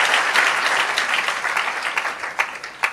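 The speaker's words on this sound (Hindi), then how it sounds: "जोरदार ताली प्रभु यीशु के लिए।" A church congregation applauds for Jesus during a sermon, giving a dense, loud burst of hand-clapping that fills the room for a few seconds, with no voices over it.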